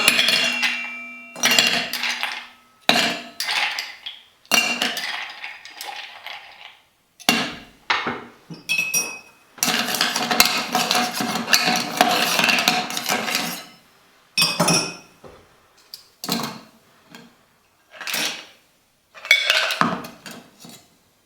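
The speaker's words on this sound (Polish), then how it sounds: "Zaczynamy też od schłodzenia shakera." A metal cocktail shaker and glassware being chilled with ice before mixing a pineapple cocktail with Licor 43, loud rattling, clinking bursts repeating in short shakes with pauses between them and one longer sustained stretch.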